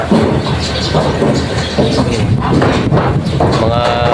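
Cattle lowing at the Thursday livestock market in Padre Garcia, where cows and carabao are sold: drawn-out moos rise over a dense, busy crowd hubbub with people talking throughout.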